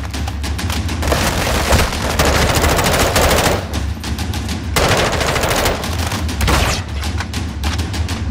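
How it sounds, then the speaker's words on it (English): Minigun fire in the video game Call of Duty MWII, a loud, continuous rapid-fire roar lasting several seconds in long sustained bursts with brief gaps, alongside other gunfire and booms. "Oh, I hear a minigun."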